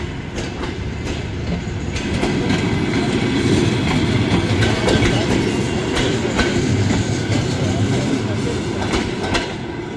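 A train rolls past with a steady rumbling roar and rhythmic clickety-clack of wheels over rail joints, loud and close throughout, with no speech over it.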